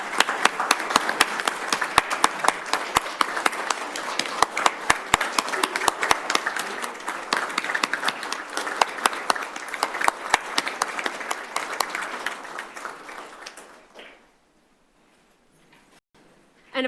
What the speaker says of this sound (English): one more round of applause and a standing ovation for all of our young people